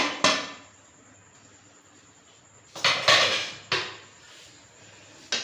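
A pressure cooker with a damaged handle is opened and handled in a home kitchen while cooking chickpeas, giving a few sharp metallic clanks and knocks of lid and pot, spaced apart with quiet gaps between.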